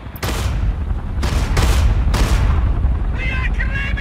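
Heavy gunfire and booming blasts in a Russian army battle mission of the strategy game EndWar, a loud continuous barrage with radio-style voices over it toward the end.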